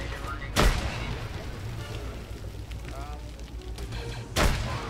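A tank firing in the video game Arma 3, in a Star Wars battle on Geonosis, with two heavy booming shots several seconds apart over constant battlefield rumble and noise.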